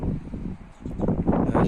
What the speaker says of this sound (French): J'essaye de me cacher un peu du vent parce que ça souffle.